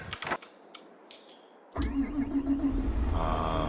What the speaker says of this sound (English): The sweet sound of a brand new tractor.